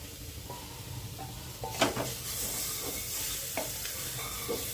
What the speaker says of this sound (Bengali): মশলা, ডাল, সবজি, কারি পাতা একসাথে ভালোভাবে নাড়াচাড়া করে নিলাম।